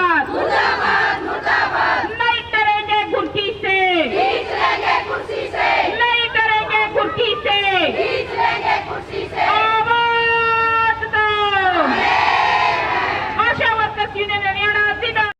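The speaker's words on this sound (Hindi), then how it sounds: "अपनी मांगों को लेकर प्रदर्शन कर रहे हैं।" Protesting ASHA health workers shout demands in unison at a civil hospital, a loud crowd of raised voices rising and falling in rhythmic chant-like bursts throughout.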